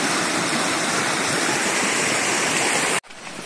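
Steady, full rushing of river water flowing in the Darién jungle, a close broadband roar that holds constant for three seconds before cutting off abruptly to a quieter wash.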